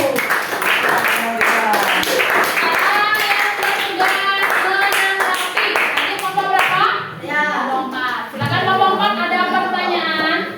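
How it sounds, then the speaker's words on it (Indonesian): Classroom clapping for a group presentation on the circulatory system, brief rhythmic hand claps mixed with children's voices and chatter that carry on throughout. "Kasih tepuk tangan dulu"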